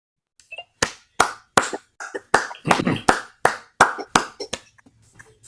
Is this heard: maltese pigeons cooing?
no